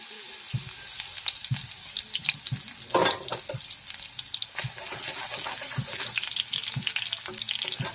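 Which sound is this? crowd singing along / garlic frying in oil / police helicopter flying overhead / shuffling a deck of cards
garlic frying in oil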